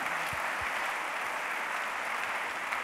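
An audience at the Enedis awards ceremony, a smart city event in Paris, claps in steady, continuous applause across the whole stretch, with a few low thumps underneath.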